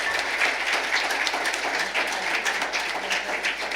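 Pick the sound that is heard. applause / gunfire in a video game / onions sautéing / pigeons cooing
applause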